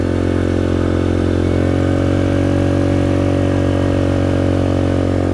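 Engine of a Yamaha Grizzly 700 XTR ATV while riding, a steady loud droning hum with a low pulsing rumble that shifts slightly in pitch midway, close and continuous with no voices.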